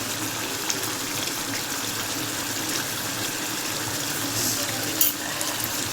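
Spicy chicken kosha sizzles steadily in hot oil with spices, a continuous close crackling hiss throughout with a brief louder burst near the end.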